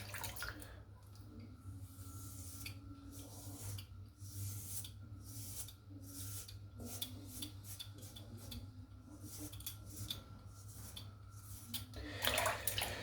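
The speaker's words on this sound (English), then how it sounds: "I'm just going to rinse this razor off in the water." A razor is swished and rinsed in water, giving soft irregular sloshing and dripping over a low steady hum, with a louder splash near the end; no speech.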